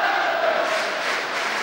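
A large ice hockey crowd at a UK Elite League game between the Nottingham Panthers and Coventry Blaze roars and cheers, a loud, steady wall of voices filling the arena.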